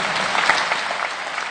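Audience applause at an industry conference debate on taxation, a brief burst of dense, steady clapping from a large crowd that fills the room.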